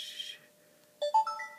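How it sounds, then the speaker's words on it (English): A second mobile phone's ringtone starts up with a few rising electronic tones, clear and fairly close, after a brief hiss and a quiet pause. "And my other phone goes off as I'm doing this."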